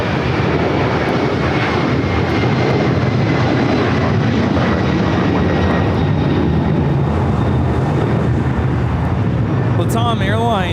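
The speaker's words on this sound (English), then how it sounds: "Latam Airlines 2479 taking off to Lima, Peru on the 767-300ER." A LATAM Airlines Boeing 767-300ER takes off from LAX bound for Lima, Peru, producing a loud, sustained broadband jet roar throughout, with voices faintly audible underneath.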